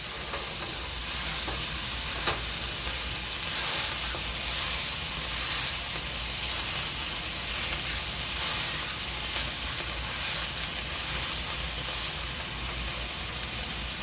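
Burger patty sizzling loudly on a hot pan while being pressed down thin, a dense, continuous frying hiss with faint scrapes and taps throughout and no voices.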